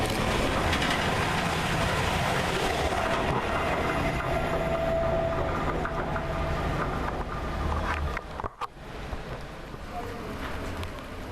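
Class 222 passenger train 222009 running at Flitwick station on a Sheffield to London St Pancras service, a steady broad rumble of passing carriages with wind buffeting close to the microphone and a brief dip near the end.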